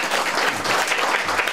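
Brief burst of audience clapping at a kagura festival performance, honoring the mayor; a dense, steady patter of hands from a nearby crowd.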